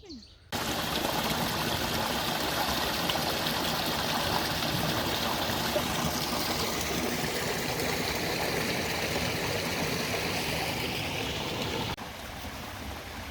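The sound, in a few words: stream water flowing while filling up on water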